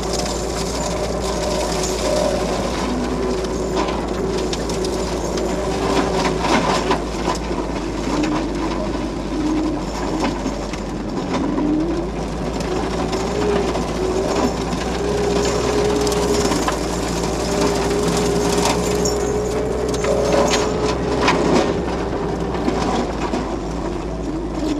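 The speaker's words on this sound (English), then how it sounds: "So I'm gonna start the mulcher head again." Forestry mulcher head chewing through thick brush, a loud continuous mechanical roar with grinding, rattling texture and shifting engine drone, sustained throughout at close range.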